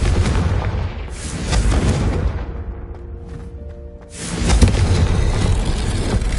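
A Confringo spell explodes in the video game Hogwarts Legacy, two loud booming blasts a few seconds apart with rumbling decay between, no voices.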